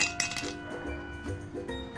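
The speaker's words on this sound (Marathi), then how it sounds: "आता आपण बर्फ टाकूया।" Ice cubes drop into a glass for a chilled raw mango drink, giving sharp, close glassy clinks and knocks in quick succession with no talk.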